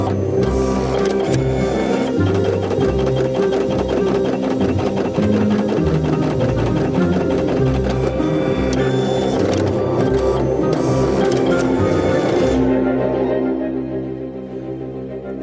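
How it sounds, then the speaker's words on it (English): An inkjet printer running after being unblocked, a steady mechanical whirring and rhythmic clattering of the print head that continues for many seconds, then tapers off near the end. "The printer immediately unblocks."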